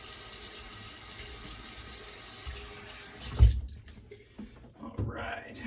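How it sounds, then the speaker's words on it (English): Tap water runs steadily into a sink as a freshly shaved face is rinsed, a close hiss that cuts off partway, followed by a few splashes and drips. "All right, quick rinse off."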